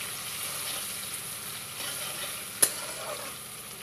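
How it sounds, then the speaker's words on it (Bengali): Sliced onions with whole cumin frying in hot oil in a pan for fish curry, a soft continuous sizzle with light stirring and one sharp clink of the spatula. "এবার পেঁয়াজটাকে একটু ভালোভাবে ভেজে নেব।"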